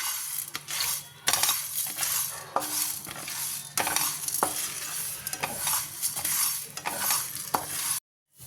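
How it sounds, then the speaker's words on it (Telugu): Coriander and mustard seeds roast in about half a spoon of oil on a low flame for temple-style tamarind rice, with a continuous close sizzle and repeated stirring scrapes and clinks before the sound cuts off. "ఒక హాఫ్ స్పూన్ దాకా ఆయిల్ వేసుకొని లో ఫ్లేమ్లో పెట్టుకొని కొద్దిగా దోరగా వేయించుకుందామండి"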